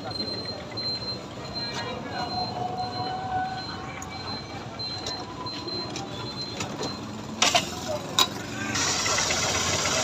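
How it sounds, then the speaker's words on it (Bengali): A Honda CB Trigger 150 motorcycle engine idling after a bearing replacement, a steady mechanical hum and whir with a few sharper clicks near the end, heard close with voices in the background. "এখন ইঞ্জিনের সাউন্ড দেখেন"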